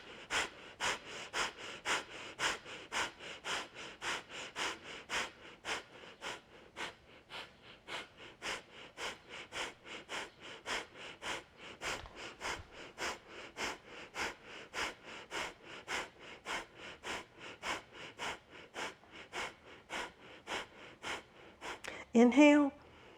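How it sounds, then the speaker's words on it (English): Breath of fire in a yoga session: strong, rapid rhythmic nasal breaths pumping evenly in short bursts, close and fairly loud, ending with a longer breath. "Strong breath, breath of fire if you know it."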